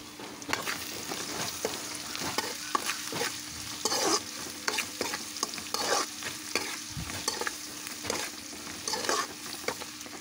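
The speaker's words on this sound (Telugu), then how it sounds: "ఇప్పుడు సాల్ట్, పసుపు బాగా కలిసే విధంగా గరిటెతో కలుపుకోవాలి." A ladle scrapes and stirs salt and turmeric through cluster beans frying in a pan, repeated clinks and scrapes over a soft steady sizzle, close and fairly quiet, with no talking.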